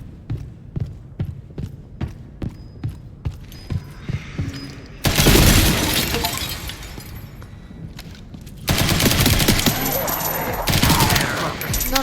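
Rapid gunshots crack in a steady rhythm in the Resident Evil Requiem video game, then give way to loud, sustained bursts of shattering, crashing glass and heavy noise, close and intense.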